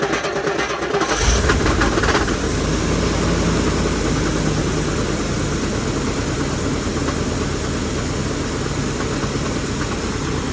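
A Rolls-Royce car engine cranks and catches about a second in, then settles into a loud, steady, close-up idle with a dense mechanical rumble.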